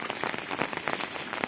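Steady rain falls on a leafy garden of potted plants such as chrysanthemums, a dense continuous patter of drops on leaves and surfaces, close and even throughout with no voices.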